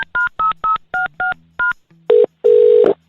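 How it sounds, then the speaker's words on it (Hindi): A phone's keypad beeps out a number in a quick run of short touch tones, followed by two longer, louder ringing tones, all crisp and close with no talking. "आपने जो नंबर दे रखा है अपनी गर्लफ्रेंड का, मैं उस पर फोन कर रहा हूँ"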